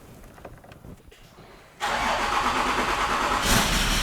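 A rebuilt 3.0 TDV6 diesel engine in a Range Rover cranks over briefly and catches, then settles into a loud, steady idle with rough exhaust rumble, close up and with no talk over it.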